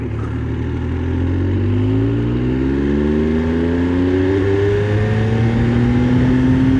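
A Benelli Tornado Tre 900 triple-cylinder motorcycle engine revs up close and loud, its smooth tone climbing steadily in pitch with no talk over it.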